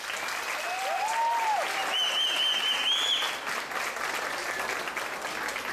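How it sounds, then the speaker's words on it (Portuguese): Audience applause greets a samba dance company on stage, a steady, moderately distant wash of clapping throughout, with sliding electronic tones briefly sounding over it. "Palmas, por favor."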